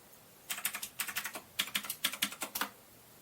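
Password typed on a computer keyboard, heard as a rapid run of about a dozen crisp, close key clicks in short bursts with brief pauses between them, with no talking.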